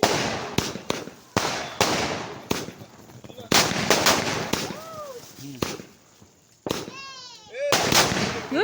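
Diwali firecrackers burst in rapid succession, sharp loud cracks repeating with short gaps, with voices chattering in between.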